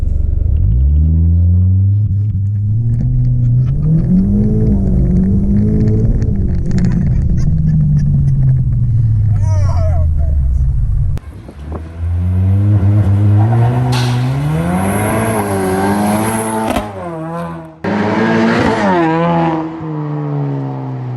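A turbocharged Ford EcoBoost car with a big Turbonetics NX2 turbo launches hard, the engine revving up in loud rising sweeps, a brief break, then more climbing revs and shifts, close and dominant with no talking.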